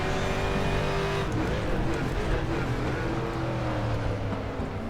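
A 1992 Mustang DTM race car at the Nürburgring GP circuit in the RaceRoom racing game, its engine roaring loud and continuous with shifting pitch as it accelerates and changes gear.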